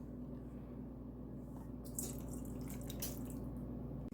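Water trickles and drips into a cup of flour as matzah dough is started, a quiet, steady pour that picks up briefly midway, with no talk over it.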